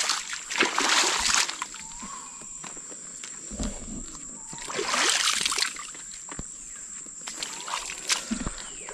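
Muddy sandals and feet are washed with water in the jungle near Indira Point on Great Nicobar Island, with sloshing and splashing in irregular bursts of pouring and scrubbing against a steady outdoor background.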